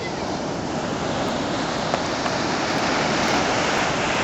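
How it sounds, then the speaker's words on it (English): Ocean waves breaking on a beach make a steady, loud wash of surf that fills the whole clip, with wind noise on the microphone and no speech. "Oh no, here comes the waves."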